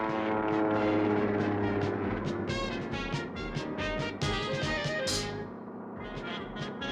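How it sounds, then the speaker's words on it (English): A propeller plane performs an inside loop in a stunt flight, its engine droning loudly and steadily as the pitch rises and falls, then thinning and fading slightly toward the end. "standing on the wing of a plane as it does an inside loop."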